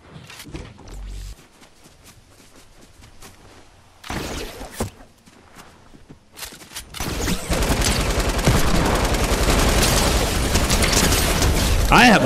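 Gunfire in Fortnite during a Chapter 4 Season OG match at Tilted Towers, with scattered shots early and then a dense, loud burst of rapid fire and explosions filling the second half.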